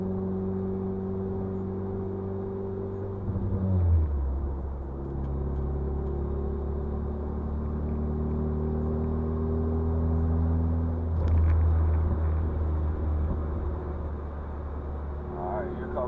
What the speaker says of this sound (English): I'm going to do a nice pull from second gear